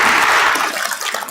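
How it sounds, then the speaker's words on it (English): A large audience at a formal Korean peace event gives a thunderous round of applause after a keynote speech by President Donald Trump, a dense broadband wash of clapping that starts loud and eases slightly over a second. "let us express again our great gratitude with a thunderous round of applause to President Donald Trump"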